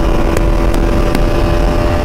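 A Bajaj Pulsar RS200 motorcycle accelerates hard toward top speed on a road, its engine note a loud, steady drone up close with faint periodic ticks.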